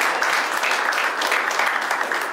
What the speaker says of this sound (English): Yeah, that deserves an applause.